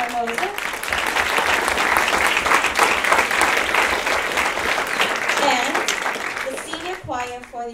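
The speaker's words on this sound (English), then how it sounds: "Let's give a round of applause for our loving conductor and choir teacher, Miss Anne-Marie Kennedy." An audience at a senior choir concert breaks into warm, sustained applause, a dense steady clatter of many hands that fades slightly, with voices speaking over the tail end.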